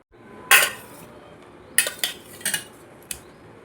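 Pieces of fish being tossed with garam masala and spices in a bowl, with a few sharp clinks of a utensil against the dish in separate bursts, close and fairly loud, no talking.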